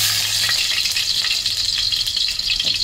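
Garlic frying in a hot pan, a loud steady sizzle with crackling spatter and occasional stirring, close and continuous with no talk.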